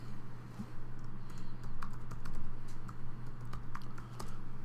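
Keys tapped on a computer keyboard in irregular clicks, faint and close, over a steady low electrical hum.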